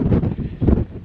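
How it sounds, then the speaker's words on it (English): Gusty wind buffets the microphone in two low, rumbling bursts over about a second, on a rooftop at a WWII fort above Mellieha Bay, Malta. "It's pretty windy out here, I think."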